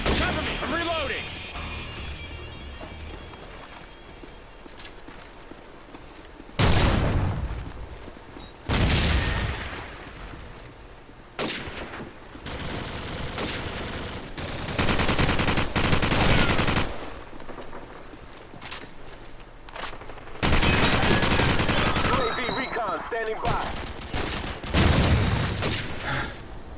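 Bursts of automatic and single-shot gunfire from the video game Call of Duty 4 during a Team Deathmatch round, loud volleys separated by quieter stretches of game ambience, with a voice talking at times.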